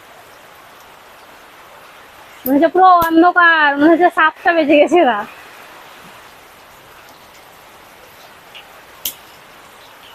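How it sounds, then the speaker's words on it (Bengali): Heavy rain during a storm makes a steady, even hiss throughout, while someone speaks briefly over it in the middle. "দেখেন বৃষ্টি আর তার সঙ্গে এমন ঝড় দিচ্ছে মানে সব কিছু সরিয়ে ফেলতে হচ্ছে"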